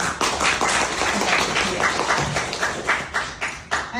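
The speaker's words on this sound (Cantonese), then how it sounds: "我俾個掌聲" Applause from a group of people, a steady clapping wash with rhythmic peaks building near the end, fairly close and sustained throughout with no talking.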